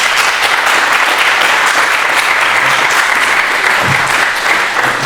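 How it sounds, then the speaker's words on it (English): An audience at a panel discussion gives a round of applause, with a thick, even wash of clapping throughout at close range. "Let's give you a big round of applause."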